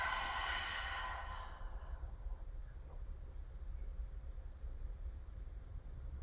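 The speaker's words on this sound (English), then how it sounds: "Let's take another deep inhale through the nose and exhale through the mouth." A person doing a Kundalini yoga session exhales deeply through the mouth in one long, soft breath that fades after about two seconds, leaving quiet room hiss.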